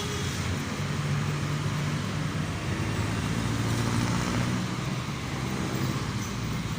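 Road traffic streams past in a steady, even roar of cars and heavier vehicles, close and continuous without a break.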